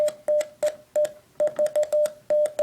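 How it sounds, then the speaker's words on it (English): Morse code tones keyed on a makeshift key built from a stapler, sounding as a steady beeping tone in short and long bursts with sharp clicks at each press, loud and close with no voices. "little stapler Morse code key"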